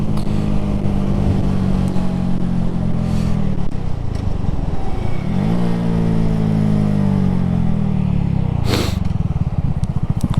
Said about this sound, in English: Riding a motorcycle at under 50 degrees weather